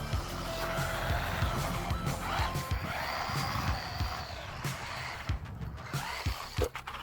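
A DEERC 302E RC car runs at full speed on cement, its electric whine rising and falling with tire scrubs and skids, followed by a few sharp clattering knocks as it tumbles.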